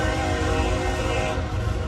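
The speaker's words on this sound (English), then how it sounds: "there's another train coming on that other track." A train passes loudly on the adjacent track at a three-track railroad crossing near a depot, a close, steady rumbling roar with sustained horn-like tones.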